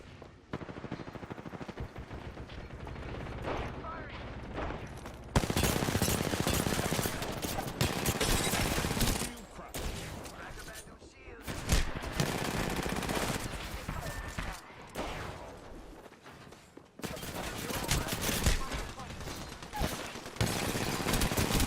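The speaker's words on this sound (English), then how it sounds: "They're shooting at me." Dense gunfire in the Apex Legends battle royale game, sustained bursts of automatic weapon fire and loud shots nearly throughout, with brief lulls between volleys and heavy in-game action layered over it.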